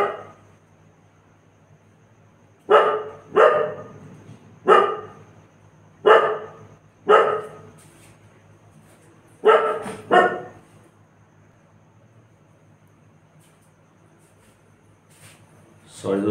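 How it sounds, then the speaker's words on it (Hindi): A dog barks at someone at the gate, sharp loud barks in short bursts, mostly singles and pairs with quiet gaps between, and no talking over them. "अभी गेट पर कोई था तो डॉग के भौंकने की आवाज़ थी"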